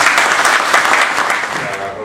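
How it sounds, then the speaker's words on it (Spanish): An audience at a lecture on the Cuban revolution gives loud applause for a Cuban ambassador, a dense, sustained wash of clapping from a packed room, close and even throughout the short burst. "del cual pido fuertes aplausos, por favor"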